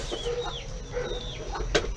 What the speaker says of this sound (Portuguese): As galinhas estão aqui, ó.